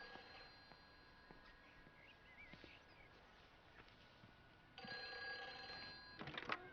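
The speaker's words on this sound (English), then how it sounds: "Ringing phone again" A telephone rings in the video game Everybody's Gone to the Rapture, a trilling electronic bell that cuts in near the end over a quiet ambient backdrop with faint scattered sounds.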